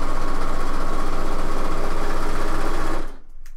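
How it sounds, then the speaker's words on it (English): A sewing machine hums steadily and loudly while sewing the sleeves into a top, running without a break for about three seconds before stopping abruptly and leaving near quiet. "when we sit at the sewing machine"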